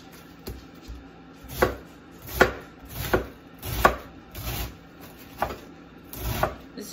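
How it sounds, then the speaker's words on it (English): A knife roughly chopping cabbage on a cutting board gives about eight distinct, fairly close knocks at an uneven, unhurried pace, with quiet gaps between strokes. "This is just a rough chop."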